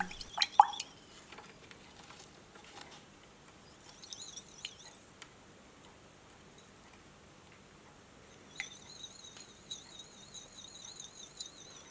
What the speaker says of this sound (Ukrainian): Якщо нашу суміш солоної води та піску пролити через фільтр, солона вода пройде, залишивши пісок на фільтрі.